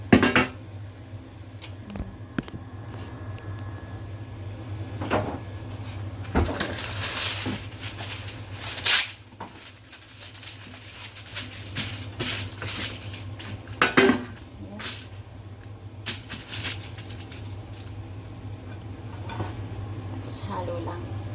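Food being stirred and tossed in a pan with spices: frequent metallic scrapes and taps of a utensil against cookware, irregular and close, over a steady low hum, with someone talking in between.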